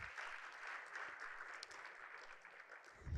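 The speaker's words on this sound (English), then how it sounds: "Rwanda, you deserve a round of applause for showing us this." An audience at an African human resources summit applauds, a quiet, distant wash of clapping that holds steady for a few seconds in a large hall.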